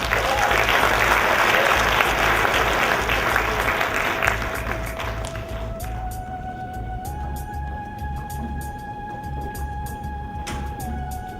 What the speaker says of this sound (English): Round of applause for these guys, please.